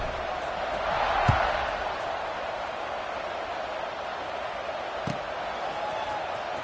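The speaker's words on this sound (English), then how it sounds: "this crowd is buzzing after that last score" Stadium crowd in a college football video game, LSU against Clemson late in the fourth quarter after a score, a steady broad roar of distant buzzing with a couple of brief thumps and no talk.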